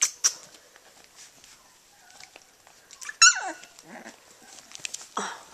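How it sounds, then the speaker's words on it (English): Three-week-old puppies bark and yip in sharp high bursts, with one loud cluster in the middle, whimpers and small squeaks in between, all close and with no talk. "Oh, who's barking?"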